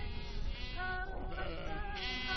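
Sheep bleat near a Kazakh nomad camp by the water, a wavering, nasal cry heard close over a steady buzzing background, with no talk.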